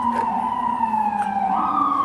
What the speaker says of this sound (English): It wouldn't be New York without sirens.